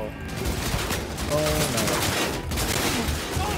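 Rapid gunfire bursts from a shootout in the video game Cyberpunk 2077, dense and continuous under a busy game mix, while a player's voice speaks over it.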